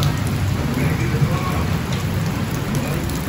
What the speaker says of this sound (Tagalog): Nakakabigla. Biglang umulan.